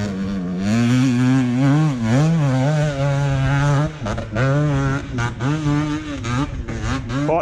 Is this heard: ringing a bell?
no